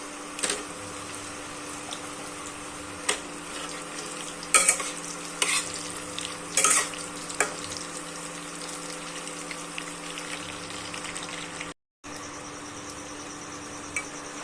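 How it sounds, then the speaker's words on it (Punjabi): Okra frying in a pan for pyaz masala bhindi, heard as a steady low sizzle with occasional stirring scrapes and clatters, continuous and close, with no talking. "ਇੱਕ ਦੋ ਮਿੰਟ ਲਈ ਫਰਾਈ ਕਰਾਂਗੇ"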